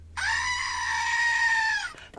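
A goat bleat sound effect: one long, loud, steady, nasal cry lasting nearly two seconds, alone and cut off abruptly.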